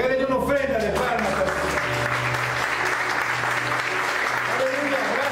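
A church congregation claps, steady and full throughout, with voices and cheering mixed into the applause and a speaking voice heard at the start and near the end.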